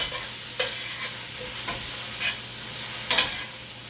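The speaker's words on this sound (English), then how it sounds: "just saute this up" Spinach sizzles in a skillet, a soft steady frying hiss broken by several scraping stirs of a utensil at uneven intervals, heard close.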